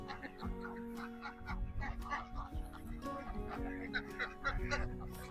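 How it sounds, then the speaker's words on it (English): A black and white feathered duck calls among other fowl on Bell Island, with honking, quacking cries scattered over a steady low rumble and faint background voices. "I never see a black and white feathered duck before,"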